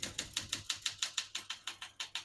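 Typing on a 1966 Olympia SM9 portable typewriter, set to single space: a steady, even run of about twelve crisp, close key strikes, each a sharp clack with a quick decay, and no voices.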